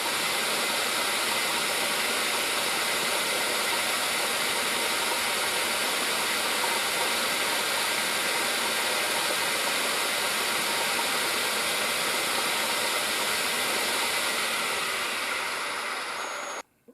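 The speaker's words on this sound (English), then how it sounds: "You just saw the facing operation." Lathe facing a plastic thread cap plug, producing a steady broadband machine hum with a faint high whine that runs unbroken before cutting off abruptly at the end.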